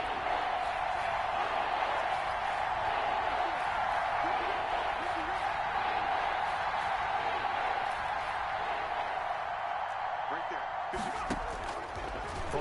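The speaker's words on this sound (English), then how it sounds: "the crowd getting into it as we come up on a big 3rd down." Stadium crowd noise in the Madden NFL 21 video game during a Vikings at 49ers match, a steady roaring murmur that runs throughout with a low hum, getting louder before a big third down.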